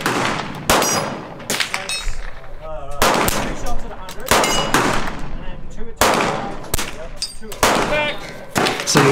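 Two handgun shots on a shooting range, sharp loud cracks among several other bursts of gunfire and clanks, close by, with brief pauses between them.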